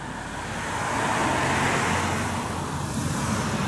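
Bentley Bentayga arriving at the Bugatti factory, a steady rolling car and road noise swelling then settling, moderately close with no talk.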